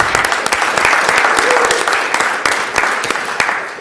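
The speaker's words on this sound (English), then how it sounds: "I hope that we can give her a round of applause" An audience applauds at an award presentation honoring a Utah professor, steady dense clapping that rises, holds and starts to thin near the end, with brief talk mixed in.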